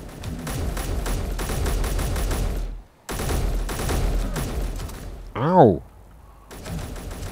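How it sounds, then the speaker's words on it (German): Rapid gunfire from hostile players with elite weapons in Space Engineers, dense bursts of shots rattling close and loud for several seconds, broken by a short gap and a pained cry from the player. "Okay, auf mich wird schon wieder geschossen."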